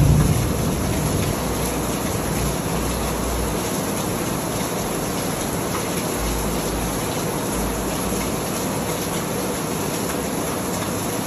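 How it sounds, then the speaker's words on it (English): A thunderstorm with heavy, steady rain pours outside, a dense continuous hiss with low rumbles of thunder rolling underneath at intervals, loud and close. "More thunder in there, more lightning."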